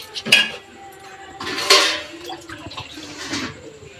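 Rice and lentils for khichuri, turmeric mixed in, have water added in a cooking pot; two louder bursts of clattering and splashing stand out among softer clinks of metal cookware, close and with no one talking.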